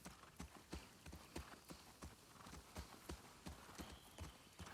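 Horse hooves clip-clop steadily in The Last of Us Part 2, a quiet, regular rhythm of crisp hoof strikes repeating about twice per second, with no talk over them.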